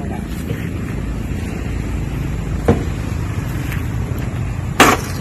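Strong wind buffeting a microphone at a house construction site in the Philippines, a steady low roar with brief louder gusts near the end and people talking under it.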